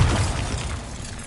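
A Bombarda spell blast from Hogwarts Legacy goes off in a loud, booming burst at the start. The low rumble then fades slowly across a second of noisy decay.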